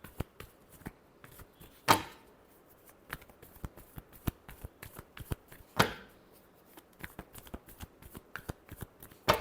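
Tarot cards being shuffled by hand: two loud riffling bursts stand out among a steady series of crisp, close card taps and flicks, with no voices.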